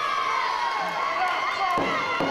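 A wrestling crowd in Gallatin cheers and roars continuously during a bout between Genesis and Emerson. The loud, dense mass of voices fills the space with a few sharp thuds, and no single speaker stands out.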